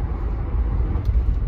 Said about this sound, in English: let's get in the car and go to the warehouse